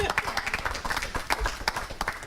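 Brief applause and clapping from an audience at a board of education meeting, a short burst of claps spread across the room and mixed with voices.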